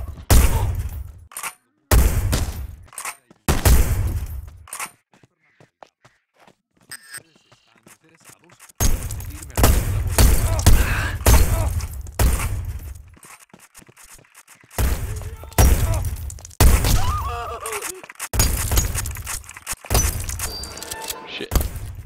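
Enemies open fire in Hitman: Blood Money, loud rapid bursts of gunshots with sharp shattering impacts, cut by a quiet pause before the volleys resume and keep hammering close by.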